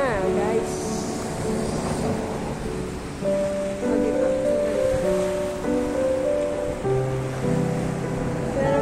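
Ocean surf rolls at Waterfalls Bay, a steady broad wash of waves filling the whole clip, with sustained tonal sounds layered over it.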